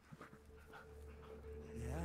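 A dog pants and whimpers in the VR horror game Blair Witch VR, quick breathy panting with a soft whine near the end, heard up close and fairly quiet.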